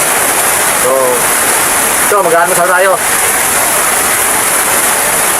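Heavy rain pounds a roof in a loud, constant hiss throughout, with a person speaking briefly over it.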